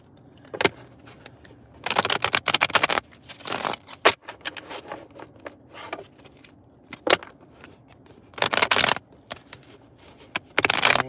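A deck of tarot-style cards being shuffled by hand in close, crisp bursts of riffling and slapping, with short quiet gaps between the runs of shuffling.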